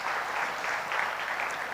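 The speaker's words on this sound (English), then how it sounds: "give them a big round of applause" A short stretch of audience applause at a school event, a steady, dense wash of clapping with no gaps, moderately loud and continuous throughout.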